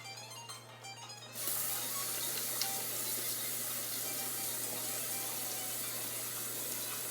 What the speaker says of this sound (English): We're gonna start off by rinsing off all of our ingredients